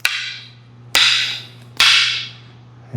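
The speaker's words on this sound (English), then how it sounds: "I hit him again with the roof." Wooden sticks striking together in a basic stick-fighting drill, three sharp, loud cracks about a second apart, each with a ringing decay over a steady low hum.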